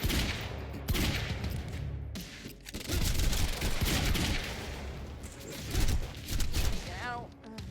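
Rapid gunfire from the video game Quantum Break, dense bursts of shots over about eight seconds with a loud rattling texture and a brief gap near the middle, no clear speech.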